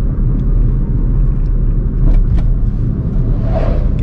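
A manual car's engine rumbles steadily while driving and shifting down through the gears, a close, continuous low drone from inside the cabin with no talk.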